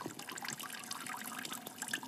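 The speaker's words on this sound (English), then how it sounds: "You can hear this water running." Water running in a Kelvin water dropper experiment, picked up close to a microphone as a faint, continuous trickling and splashing with fine irregular drips throughout.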